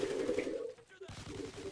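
Gunfire from a video game sounds as rapid, rattling bursts over a steady droning tone, breaking off briefly before the shots resume at close range.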